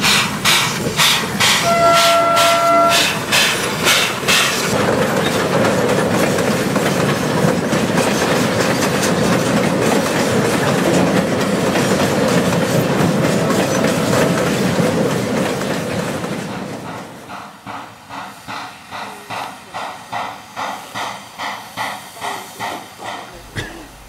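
A departing passenger train at Sandaoling rumbles loudly and steadily, then its noise drops as rhythmic clickety-clack of wheels on rail joints takes over, repeating evenly.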